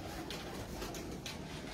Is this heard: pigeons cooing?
yes